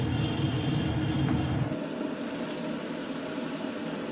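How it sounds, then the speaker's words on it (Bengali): Chips frying in hot oil in a home kitchen, a steady loud sizzle and bubbling that continues without pause, with a slight shift in tone partway through and no talk. "এইভাবে ফুলে ফুলে আমি সবগুলোকে একটু একটু করে করে সম্পূর্ণটাকে ভেজে উঠিয়ে নিব"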